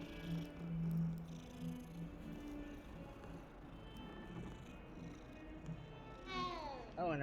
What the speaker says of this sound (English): Oh, look, another cat.